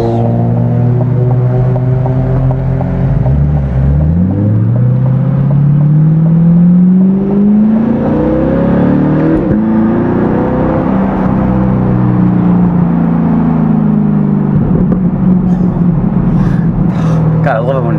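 A C8 Corvette's aftermarket exhaust roars up and down through repeated revs, loud and close, with rising and falling engine tones and a crackling burble near the end.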